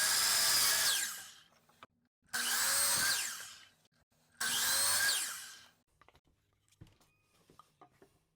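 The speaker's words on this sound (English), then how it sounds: "we're going to be cutting 6 pieces long of a 30-degree miter" Three loud power saw cuts through wood from a miter saw set to 30 degrees, each a rising whine lasting about a second and a half with clear gaps between, followed by quiet handling clicks and taps.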